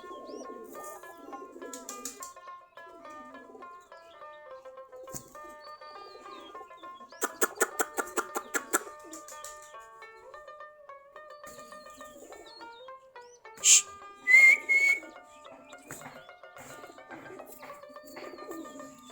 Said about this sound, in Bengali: সম্পূর্ণ দেশি গিরিবাজ কবুতর কেউ বলে গুল্লা কবুতর